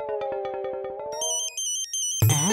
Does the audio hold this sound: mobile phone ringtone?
yes